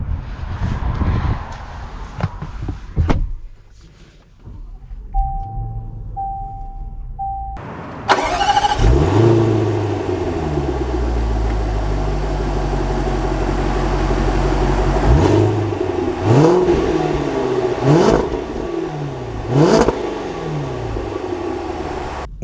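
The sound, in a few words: 2021 Range Rover Fifty starting and driving off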